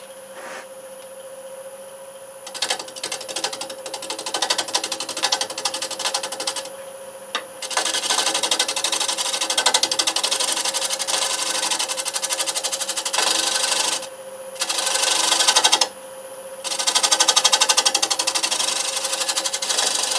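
A wood lathe turns an out-of-round natural edge cherry bowl, a constant machine whine with bursts of harsh scraping as the tool cuts, stopping and restarting in several long stretches, with no speech.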